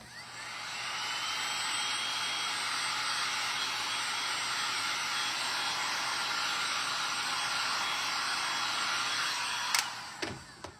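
A heat tool drying paint on a stencilled double-sided gingerbread trivet roars steadily and loudly for about ten seconds, then cuts off with a couple of clicks and rattles.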